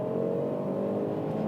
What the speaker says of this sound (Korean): 네, 제로백을 테스트 해봅니다.